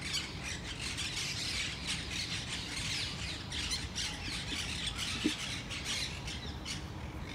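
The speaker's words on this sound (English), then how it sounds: "I'm so impressed by how I only hear the birds" Birds chirp and squawk through steady broadband ambience in a quiet city park in Rome, the calls faint and continuous, with one brief sharper chirp standing out and no nearby traffic or voices.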